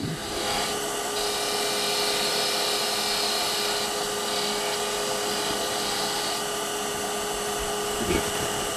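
Woodturning on a lathe with a Hunter Hercules carbide tool taking a bevel rubbing cut, a steady continuous whirring hiss with a thin high whine, close and fairly loud throughout, with a brief bump near the end.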